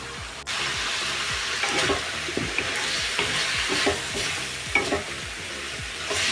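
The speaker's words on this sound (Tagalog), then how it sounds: "hintayin lang natin na mag-gisa-gisa" Ingredients for papaitan sauté in a pan, a continuous crackling sizzle broken by repeated scraping strokes of a stirring utensil, close and steady with no talking.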